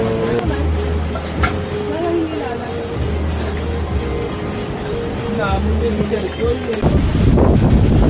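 Steady roaring seaside wind in Pagudpud, Ilocos Norte buffets the microphone, with people talking over it and a louder gust rushing in near the end.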